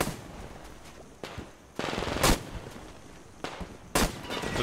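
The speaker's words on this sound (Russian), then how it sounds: "Так, тут еще где-то стреляет." Metro Exodus game gunfire, several separate loud shots and short bursts spread irregularly over a few seconds against a noisy rumbling background, with no one speaking.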